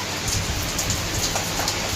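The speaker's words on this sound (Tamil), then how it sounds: "மழை பெஞ்சிட்ருக்கு ஃப்ரெண்ட்ஸ். சத்தம் கேட்குதா ஃப்ரெண்ட்ஸ்?" Heavy rain with wind pours down steadily, a dense, continuous hiss of drops striking surfaces close by, with no voices over it.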